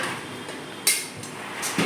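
Dishes clatter as rice is served onto plates at home: a couple of sharp clinks and knocks of plates and pots with a quiet gap between them, nobody talking.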